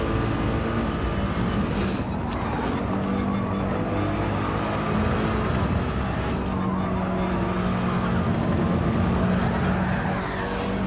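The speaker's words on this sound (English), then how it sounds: "AMG still sounds amazing. It really does. It's a very bassy oomph in it" A Mercedes-AMG race car in Gran Turismo 7 roars steadily with a deep, bassy engine note that rises and falls through gear changes, loud and continuous, with someone talking over it.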